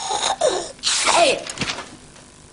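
A single sharp human sneeze bursts out, followed by brief breathy vocal sounds and a short exclamation, loud and close.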